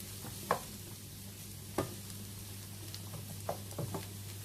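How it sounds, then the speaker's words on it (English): Vegetables and mushrooms sizzle softly in a pan, broken by a few sharp scraping knocks as they are stirred; quiet and close, with no talking. "Then put the rest of the vegetables in and stirring."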